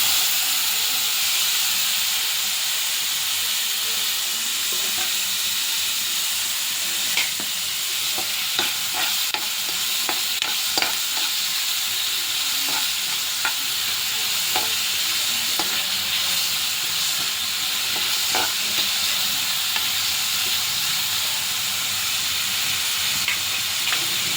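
Tomatoes are stir-fried in a pan, giving a continuous loud hiss of sizzling that lasts throughout, with scattered soft clicks of stirring and no voices.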